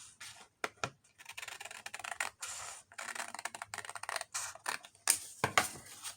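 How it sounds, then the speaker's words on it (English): Scissors snip through paper while trimming a piece for a junk journal, a series of short close crisp cuts and rustles in irregular rhythm, with no talking. "Let me cut this down just a tiny bit."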